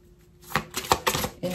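A deck of tarot cards is shuffled by hand, giving a run of quick, crisp riffling and flapping bursts that are close and fairly clear, with no speech over them.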